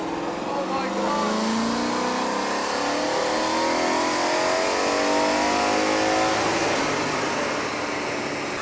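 Project car revving hard on a dyno during a power run, engine note climbing in a loud, continuous sweep with rising whine, close and dominant throughout.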